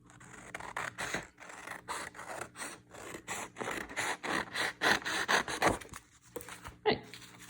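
Scissors snipping freehand through paper to cut out shapes for a Caribbean-style Easter basket, a close, steady run of short crisp cuts and scraping rasps with brief pauses between them.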